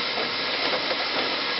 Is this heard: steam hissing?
yes